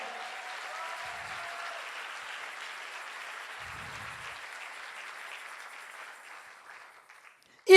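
Sustained applause and cheering from a church congregation acclaiming the king during an evening service on marriage, a dense even wash of clapping that fades slightly before a sudden loud hit at the very end.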